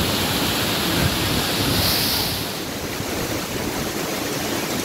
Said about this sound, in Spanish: Esto se acaba aquí, las cascadas de Irusta Sangui.